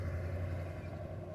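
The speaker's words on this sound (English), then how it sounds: "And there goes another truck." Truck going by on a street outside a house, a low, steady engine rumble at moderate distance that fills the short moment without any talk.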